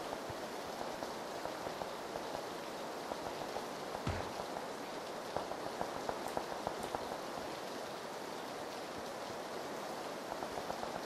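Steady rain falls in the video game PUBG Battlegrounds, a soft, even hiss of pattering drops with occasional sharper ticks, fairly faint and continuous throughout with no talking.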